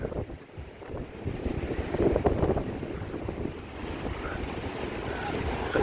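Strong gusting wind buffets the microphone on Blackpool's seafront promenade on a wild, windy day, a steady loud roar with rising gusts and possible surf faintly beneath.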